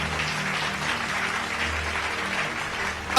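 A church congregation applauding for Jesus, a dense sustained clapping from many hands filling the room evenly, fairly loud and without a break.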